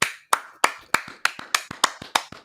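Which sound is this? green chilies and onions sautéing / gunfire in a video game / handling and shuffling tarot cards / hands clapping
hands clapping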